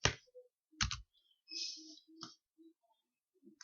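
Keystrokes on a computer keyboard typing a short word into a plugin search box, a sparse run of quiet, irregular clicks and taps, close and faint, with no talk.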